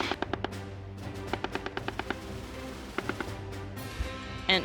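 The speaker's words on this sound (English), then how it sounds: "This is the work of the 30mm grenade launcher." A 30mm grenade launcher fires in bursts at a distance, giving muffled, rapid thuds in short clustered volleys with brief pauses between groups, heard alone over a low steady rumble.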